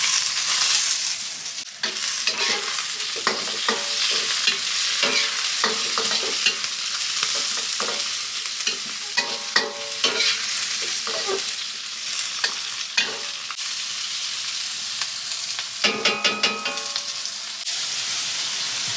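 Mushrooms and peas hit a hot pan of chicken for moo goo gai pan. A loud, continuous sizzle is broken by repeated rattling tosses and scrapes, with a busier clatter near the end.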